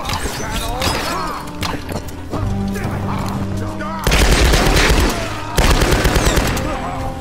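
Rapid bursts of automatic gunfire from the Tomb Raider video game, loud and continuous with sharp crashes, under steady game music and effects, heaviest toward the end.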